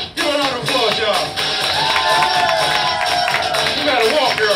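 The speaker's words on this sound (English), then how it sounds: "Give a round of applause, y'all." A crowd at a Hair Wars hair show applauds and cheers for a hairstylist, with dense clapping and whoops under a loud announcer's voice throughout.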